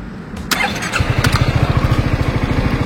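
A 2017 Yamaha Xmax scooter engine starting: a brief starter whir, then the engine catches and settles into a close, even, pulsing idle with a regular throb.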